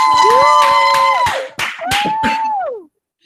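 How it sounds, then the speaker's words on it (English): Clapping plays automatically during a virtual eighth-grade award ceremony, a series of sharp claps over a bright sustained tone with a rising and falling pitch, stopping abruptly near the end. "it'll automatically play the clapping"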